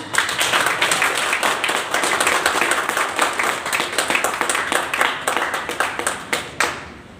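A meeting audience gives loud, sustained applause. Many hands clap densely and evenly for several seconds, then the clapping thins out into separate claps before stopping.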